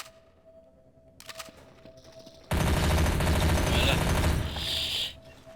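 Gunfire in the Garry's Mod video game, loud continuous rapid automatic shooting that starts abruptly and runs for about three seconds, after a brief spoken word and a few softer clicks.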